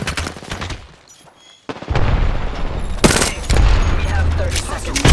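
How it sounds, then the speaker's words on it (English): Gunfire in an Apex Legends battle, with dense bursts of automatic weapon fire and booming shots after a brief lull, loud and close, and faint team voice lines mixed in. "Taking fire."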